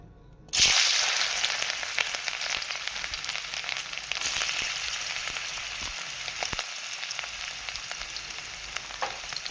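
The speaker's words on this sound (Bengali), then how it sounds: "প্রথমে গাজরটা ভেজে নেব" Carrots dropped into hot white oil in a wok burst into a loud, steady sizzle that fades slightly as they fry, with occasional stirring scrapes.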